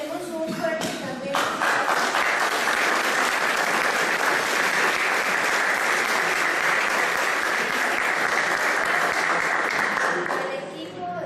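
A crowd claps at a 2014 election forum, a dense, loud, sustained applause that swells in after a voice and holds steady for about nine seconds before fading out.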